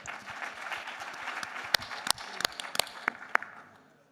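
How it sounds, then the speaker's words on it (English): An audience clapping for a presenter at a tech event, starting as a soft wash of applause that thins into a few sharp, loud individual claps before fading. "Give them a big applause."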